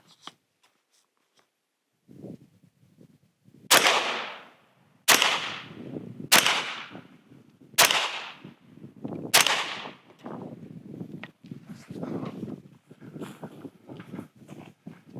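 Pistol shots ring out one by one at an outdoor shooting range, fired at a 5-yard target. Five sharp, loud cracks come at steady intervals, each ringing briefly, with low handling noise and movement before and after.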